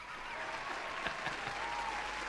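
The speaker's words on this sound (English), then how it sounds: "I'm giving myself a round of applause for that." A short burst of steady applause, many hands clapping together at an even level, with no voices over it.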